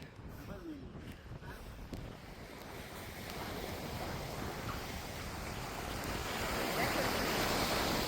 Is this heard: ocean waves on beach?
yes